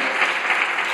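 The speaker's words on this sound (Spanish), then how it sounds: "Un aplauso para ellas, para los trabajadores y trabajadoras de esta Cámara." Under a second of dense applause inside the Spanish Congress chamber, many hands clapping together in a steady, fairly loud wash.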